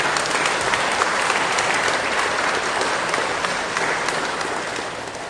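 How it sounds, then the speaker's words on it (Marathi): A church congregation at a Friday prayer service applauds loudly, a dense, sustained wash of clapping that holds steady and only slightly fades toward the end. "परमेश्वराला जो मोठ्याने टाळ्या वाजवूया"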